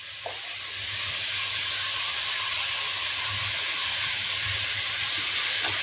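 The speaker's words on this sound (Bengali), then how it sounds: "ফ্লেমটা মিডিয়াম করে এটাকে একটু ভেজে নিতে হবে" Grated papaya frying in ghee over a medium flame, a steady broadband hiss of sizzling that swells after the first second and holds continuously, with faint low rumble beneath and no talk.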